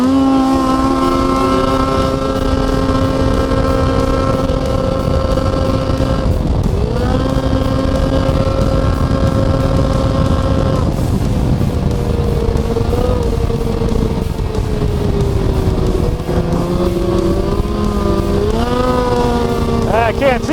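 A snowmobile engine on a northern Minnesota trail revs and accelerates, its loud droning pitch climbing and shifting with throttle changes as the sled pulls away, close and continuous throughout.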